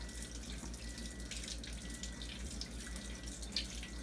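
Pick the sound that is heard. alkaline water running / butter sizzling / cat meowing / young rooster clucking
alkaline water running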